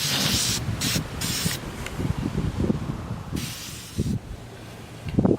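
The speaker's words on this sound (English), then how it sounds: "I'm going to spray paint them" Green spray paint hisses from an aerosol can onto golf balls in several long, steady bursts separated by short pauses, loud and close over a low, rumbling background.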